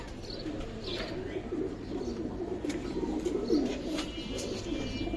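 Pigeons kept for sale cluster nearby, giving soft, repeated throaty coos in a rolling rhythm over a low murmur of background noise, with faint chirps and rustles scattered through.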